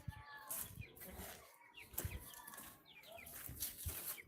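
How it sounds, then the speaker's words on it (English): Chickens clucking and squawking nearby in a farmyard, with repeated short calls and some wing flapping amid background noise. "Yeah, chickens."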